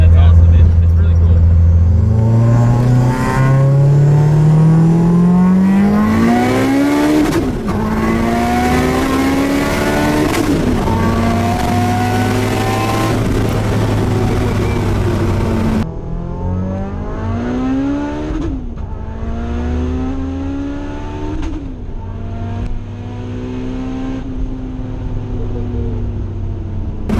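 From inside the cabin, a 940 hp all-wheel-drive Eagle Talon on 50 psi of boost accelerates hard. It is loud and close, with the engine rising through the gears in repeated climbing pulls. Excited voices talk over it.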